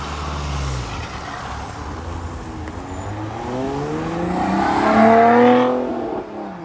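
A new Lotus sports car drives past outdoors at a classic car and bike meet, its engine note swelling as it nears and then fading away, with no talk over it.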